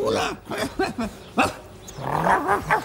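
A dog meets a stranger with a series of close, loud barks mixed with deep growls, coming in uneven bursts with short pauses between them.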